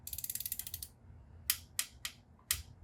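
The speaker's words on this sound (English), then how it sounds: "It should be making that kind of creaky noise." A carbon seat post twisted inside a carbon road bike frame gives a rapid run of small creaking clicks, then three or four separate sharp creaks with short gaps between them, close and crisp.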